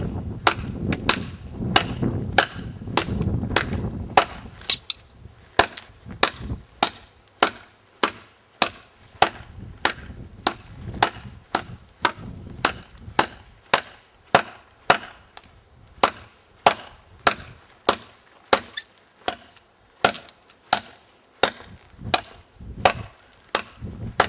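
A Kershaw Outcast survival knife chops into juniper wood in a long run of sharp, evenly spaced strikes, close and loud, each hit a crisp thwack with little pause between blows.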